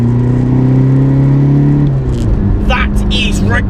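Diesel VW Golf PD hot hatch, tuned to 310 bhp and 500 Nm, pulling hard in third gear from around 2,500 rpm. Its engine drone is steady and loud, then rises in pitch, while someone talks over it.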